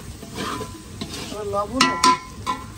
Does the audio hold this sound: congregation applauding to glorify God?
no